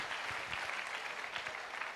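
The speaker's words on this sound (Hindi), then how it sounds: "जोरदार तालियां सर" Dense, steady applause from an audience at a diamond celebration event, loud and continuous throughout with no voices breaking through.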